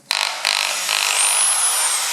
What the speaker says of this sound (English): So we just drill another hole.